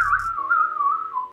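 A person whistles a short, wavering tune indoors. The tone is clear and close, and a brief background sound fades at the start.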